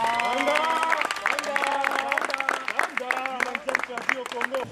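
Studio audience applauding at a televised talent challenge show, steady dense clapping filling the whole stretch, with music and voices running through it.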